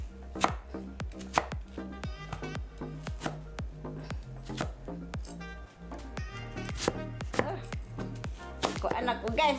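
Someone slices onions for Bisaya pork humba with a knife on a cutting board, producing a steady, close series of sharp chopping taps in a quick, even rhythm. Faint background noise sits under the cuts.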